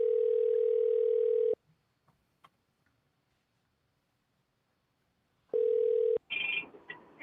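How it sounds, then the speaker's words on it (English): A telephone rings with two long, loud electronic tones separated by a silent gap, heard close up with no voices over it; a ringing phone in a home office during a live real-estate calling session. "Can you hear the phone ringing?"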